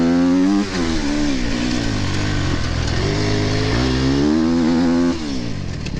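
Enduro race motorcycle accelerating hard at a British sprint enduro event, a loud, close engine note climbing in pitch through the gears, with a brief dip as it shifts and then pulls again.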